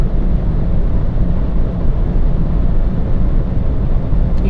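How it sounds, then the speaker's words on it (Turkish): Steady, loud wind rush fills the cabin of a Fiat Egea Cross with a 1.0 FireFly turbo engine cruising at 160 km/h, a constant broadband roar with deep low-end rumble and no talking. "Şu an 160'la gidiyorum. Rüzgar sesi belirgin."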